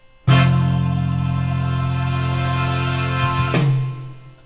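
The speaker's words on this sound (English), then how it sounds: "the number 1 ending will sound like this" A Yamaha PSR-S500 keyboard auto-accompaniment ending number one sounds one long sustained chord with a deep bass note, held for about three seconds, then a brief final change and fade.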